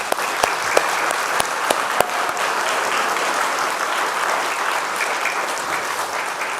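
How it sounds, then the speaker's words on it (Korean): Church congregation at a Korean Friday night service applauding together in a blessing: a steady, dense wash of many hands clapping, fairly close and loud, with a few sharp individual claps standing out near the start. "축복의 박수 하겠습니다"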